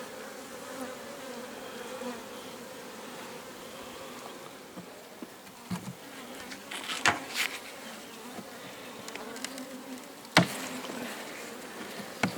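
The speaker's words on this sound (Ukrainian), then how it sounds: "ось поки розплод поки все вкрите бджолою" Honey bees hum steadily over the brood in a nucleus hive made as a spring split, a close continuous buzz with a few louder passes near the microphone, no voices.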